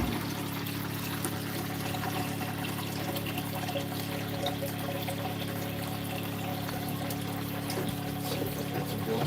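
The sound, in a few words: bucket of water pouring through a boat's bilge pump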